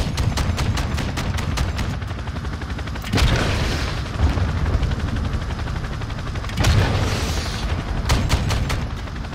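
Artillery rounds exploding in Call of Duty: Modern Warfare II, with two heavy booms standing out over a steady rattle of rapid gunfire that runs throughout at loud, close range.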